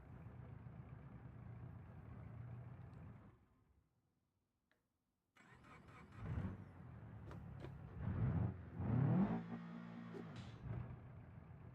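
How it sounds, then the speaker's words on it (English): A car idling in a video game, a boxer engine with a rough, god-awful idle that sounds like a turbo diesel. A steady low drone drops out for about two seconds, then returns with louder uneven surges. "the car on idle sounds god-awful"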